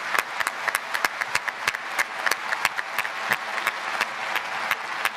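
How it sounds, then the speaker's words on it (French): Audience applause at a French-language speech on climate commitments, close and fairly loud, with sharp individual claps standing out over a continuous crowd clatter for several seconds. "Vous pouvez les applaudir parce que..."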